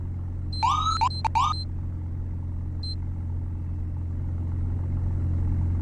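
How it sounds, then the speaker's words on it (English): Short rising electronic siren chirps from a Ford emergency vehicle, three quick yelps close together and then one brief blip, over a steady low engine idle rumble. "here's the wee-woos"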